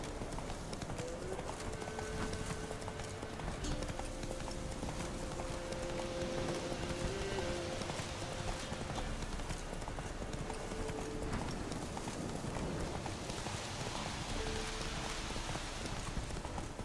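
Horse hoofbeats while riding in The Witcher 3, a steady galloping clip-clop that continues throughout over a rain-like background hiss, with faint tonal music underneath.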